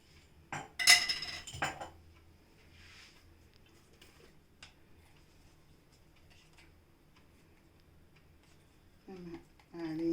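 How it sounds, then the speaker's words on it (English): A metal teaspoon clinks against a pan in a few quick knocks as cow ghee is spooned in for tempering a mango pulusu, followed by quiet kitchen background and a voice near the end. "Now I am putting my tempering. I am using cow ghee."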